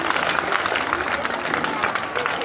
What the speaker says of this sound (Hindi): जोरदार ताली स्वागत में।